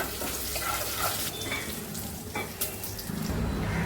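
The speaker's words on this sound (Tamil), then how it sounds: "இந்த ஆயிலில் போட்டுற போகிறேன். அதோட ஒரு பிரியாணி இலையும் கட் பண்ணி போட்டுடுறேன்." Whole spices and a cut bay leaf dropped into hot oil, crackling and sizzling steadily at close range with small pops and stirring clatter, no talking.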